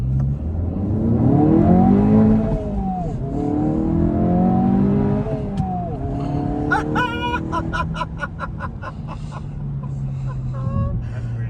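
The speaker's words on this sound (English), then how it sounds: "I'm gonna try flat shifting one more time." A Honda Civic Si engine revs hard from inside the car, its pitch climbing, dipping and climbing again through quick flat shifts. Later the note drops to a steady drone with a rapid burst of crackling pops, while a voice talks over parts of it.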